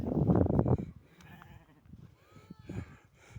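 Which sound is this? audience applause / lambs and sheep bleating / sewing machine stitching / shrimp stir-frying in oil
lambs and sheep bleating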